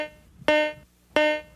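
Two bright, ringing bell-like chimes from a Garrett GTI 2500 metal detector's Coin Alert tone, each a sharp strike with a harmonic ring decaying over about a quarter second, spaced roughly 0.7 seconds apart against near silence.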